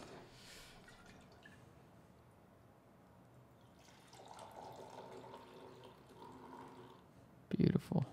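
Freshly brewed batch coffee is poured at a coffee roastery, with a soft, faint trickle of liquid building midway and a brief louder clatter just before the end.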